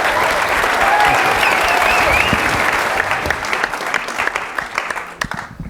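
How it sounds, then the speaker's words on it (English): An audience at a film and TV industry town hall applauds its panel. The dense, loud clapping slowly thins out into scattered claps toward the end. "Let's give another round of applause for our panel, please."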